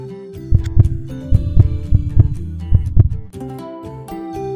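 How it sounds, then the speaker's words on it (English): A baby's heartbeat in a pregnancy video game: loud, rhythmic paired thumps that pulse evenly over a sustained hum and then fade out. "Baby heartbeat is normal."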